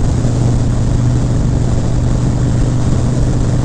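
Harley-Davidson Breakout motorcycle cruising at highway speed around 80 mph, a steady loud engine drone with heavy wind rush, continuous and close, no voices.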